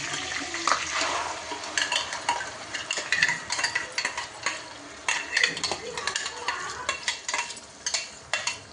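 Onion-tomato paste fries in oil after cumin and fenugreek seeds for a fish curry, a dense close sizzle broken by repeated scraping and knocking of a utensil against the pot, with no talking.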